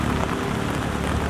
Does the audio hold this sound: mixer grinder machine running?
no